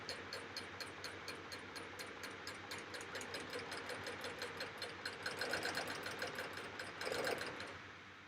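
A serger sewing machine runs steadily up close while seaming fabric, a fast even mechanical chatter of stitching that swells slightly near the end, with no talking.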